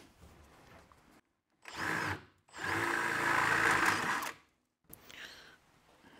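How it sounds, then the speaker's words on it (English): Power drill boring through a wooden boat rib: short bursts of whirring motor, a brief one then a longer steady run of about two seconds, close and fairly loud, separated by silence. "we've just got to drill all the way through here now"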